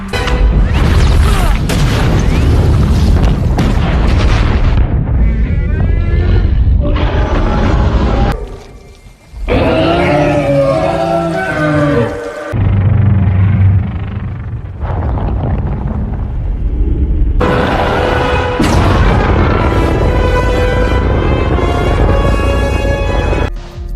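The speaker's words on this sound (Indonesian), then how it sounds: "Seifer pun tak ingin ambil resiko dan meledakkan telur-telur tersebut." Explosion of MUTO eggs in the 2014 Godzilla film, a loud, sustained barrage of deep booming rumbles and crashing debris that shifts in intensity, with a brief dip partway through.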